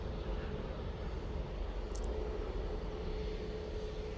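A Hainan Airlines airliner arriving from Beijing touches down at Manchester Airport, heard as a continuous, moderately distant broadband engine roar that holds steady throughout, with no voices.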